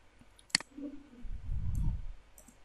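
A single sharp mouse click sounds on a web-based cashier program, followed by a soft low rustle.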